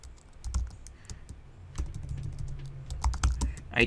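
Typing on a computer keyboard, irregular runs of sharp close key clicks and taps continuing throughout, with no voices.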